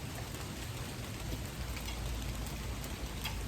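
Steady rain falling outdoors, an even, continuous hiss of drops on surfaces, moderately close, easing slightly, with no voices over it.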